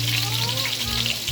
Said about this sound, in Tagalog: Gisa lang natin mga ka-strong. Lutuin lang po natin yung bawang.